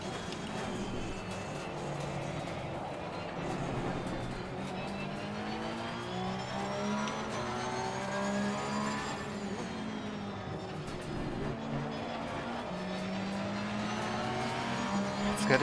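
A race car engine in the GT3 Simulator game revs at Laguna Seca as dusk falls, loud and continuous, its pitch climbing and dropping through gear changes with a steady hiss of road and wind noise beneath.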